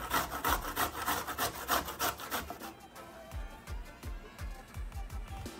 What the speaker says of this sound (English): you want to grate around 2 inches of ginger